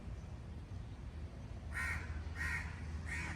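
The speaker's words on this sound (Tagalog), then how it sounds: "ingay ng uwak ano anak" Three harsh crow caws spaced about a second apart in the latter half, over a low steady background rumble.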